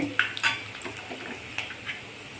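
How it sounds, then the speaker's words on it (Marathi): Masala paste goes into a hot pan for sprouted moong misal. It gives a soft sizzle with a few scraping stirs and light clinks of a utensil against the pan, close by and fairly quiet. "आता आपण ती पेस्ट घालत आहोत."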